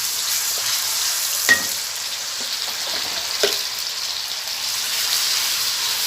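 Food fries in a hot pan with a steady, close sizzle and a few sharp pops and crackles spattering through it, and no talk over it.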